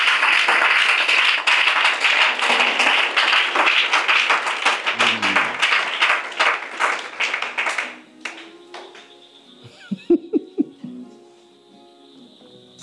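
A worship congregation bursts into loud, dense applause acclaiming Jesus; the clapping holds strong for several seconds, then thins out and fades into scattered quieter sounds.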